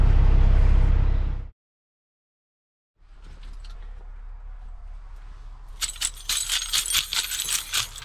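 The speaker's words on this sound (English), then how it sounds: "gonna take my janitor keys, keys to my life, literally every key I need in my life" A janitor's large bunch of keys, carried by a truck driver, jangles and clinks in bright metallic bursts near the end, after a loud rush and a moment of near silence.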